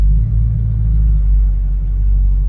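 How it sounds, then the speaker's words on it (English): A 1969 Chevrolet Camaro SS on a test drive, its engine giving a deep, loud, steady rumble heard close up from inside the car, with no speech. "we're going to take this 1969 Chevrolet Camaro SS for a test drive and see how it does"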